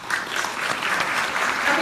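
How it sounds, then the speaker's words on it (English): An audience at a corporate business presentation claps in a steady, dense burst of applause, fairly close and even throughout with no other sound standing out. "let's give everyone a round of applause"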